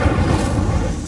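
A fire spell cast in the Hogwarts Legacy video game makes a loud, dense burst of rumbling, booming roar that holds steady for about a second.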